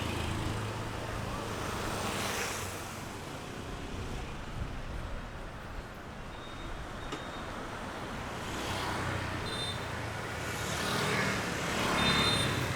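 Street traffic rolls through a local neighborhood in Da Nang, a continuous roadway rumble with passing vehicles swelling louder early on and again toward the end, heard from the roadside.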